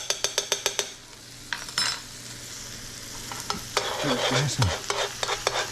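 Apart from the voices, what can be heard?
minced garlic sizzling in a pan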